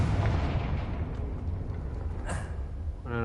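Confringo explosion spell cast in the video game Hogwarts Legacy, a short muffled blast with a rumbling low-end burst that fades into a brief crackling tail.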